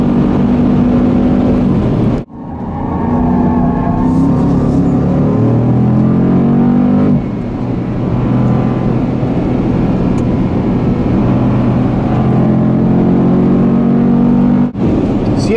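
A 2014 Jeep Grand Cherokee SRT roars as it accelerates on the Circuit of the Americas racetrack, loud and close, its engine note climbing through gears with a sharp break at each shift.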